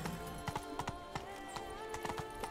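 Horse hooves clip-clopping in The Witcher 3: Blood and Wine, a quick irregular run of close hoofbeats on hard ground over a low background game hum, no talk.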